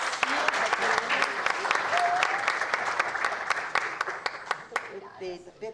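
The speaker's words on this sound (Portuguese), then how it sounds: "Por favor, mais uma vez, palmas muito agradecidas." A crowd applauds steadily throughout at an academic extension event, with sharp individual claps standing out from the dense clapping and a voice briefly speaking over it near the end.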